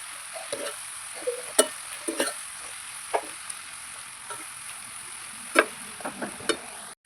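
Sautéed onions and crushed ginger stirred in a hot pan, a steady frying sizzle with scattered light scrapes and taps of a spoon against the pan, close and without talk.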